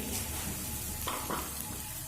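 Chopped onion frying in a pan, a dense, even sizzle that stays steady throughout, with a couple of faint scrapes of stirring partway through, close and unaccompanied by speech.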